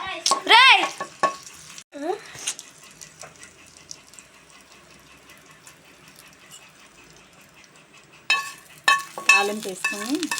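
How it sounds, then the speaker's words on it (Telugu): Chana dal, urad dal and mustard seeds fry in hot oil with a faint steady crackle and occasional clinks, while voice-like sounds rise briefly at the start and end. "ఆయిల్ కాగిన తర్వాత శనగపప్పు, సాయమినపప్పు, ఆవాలు వేసుకోవాలి."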